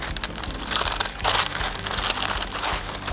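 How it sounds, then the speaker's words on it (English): Crinkling, crushing noises from burger patties being smashed flat with a burger press on a hotplate over a Weber kettle barbecue, a steady textured crunch with no talking. "Now we're gonna smash them with our Flaming Coals burger press"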